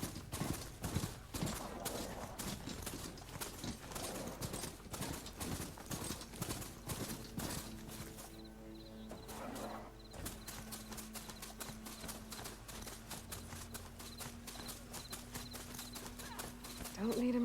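Rhythmic clip-clop of a mount's hooves from Horizon Forbidden West, steady and fairly loud through most of the stretch, mixed with game music and effects, with a voice speaking over it.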